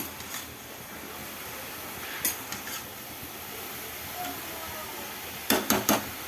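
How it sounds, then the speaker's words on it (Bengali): Potatoes and cabbage stir-fry together in a pan with a faint, low sizzle, a few scattered spatula knocks, and a quick burst of sharp scraping strokes near the end. "আলু আর বাঁধাকপিটা দুটো একসাথে একটু কষিয়ে নিচ্ছি"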